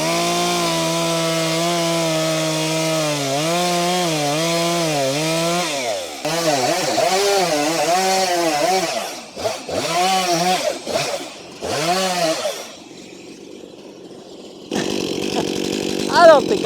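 Stihl chainsaw cutting a face cut into a dead tree: a loud, close engine drone that bogs and surges in pitch as the chain bites into the wood, then drops away to idle near the end.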